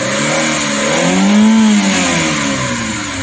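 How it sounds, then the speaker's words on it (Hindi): Engine of a Maruti Eeco van running on LPG, revved up and held at close range, the pitch rising and then easing back down, loud and alone with no talk. "तो दोस्तों आपने देखा कि गाड़ी फिर से इंजन पिकअप करने लगा है।"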